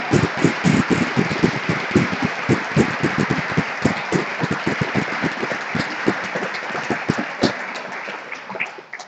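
An audience at a 2016 Woodring graduation reception applauds standing graduates. Many hands clap in a lively, dense burst close by, which gradually thins and softens toward the end.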